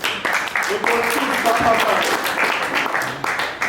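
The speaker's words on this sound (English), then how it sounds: "Ladies and gentlemen, please, round of applause." A crowd applauding at a boxing press conference, with loud steady clapping throughout while a voice speaks briefly over it.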